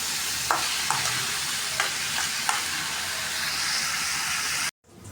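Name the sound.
vegetables frying and being stirred in a pan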